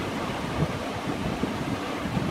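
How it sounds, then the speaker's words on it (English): Steady wind blows across an ocean shore with surf rolling underneath, a continuous broad rush with gusty swells and no voices. "hopefully you can hear me over the wind"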